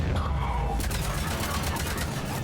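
Sustained gunfire in the Mass Effect 3 Legendary Edition shooter, a continuous loud volley of rapid shots over a constant game backdrop.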